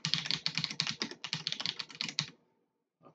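Keys clatter on a computer keyboard in quick, close bursts of typing for about two seconds, then stop, leaving near silence and one faint tap.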